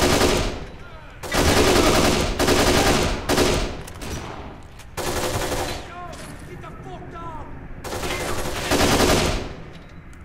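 Loud, heavy gunfire bursts come in several separate volleys of close shots from a shotgun in the video game Kane and Lynch 2: Dog Days, with short gaps and game noise between them.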